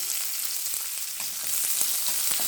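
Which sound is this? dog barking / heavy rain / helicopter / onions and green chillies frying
onions and green chillies frying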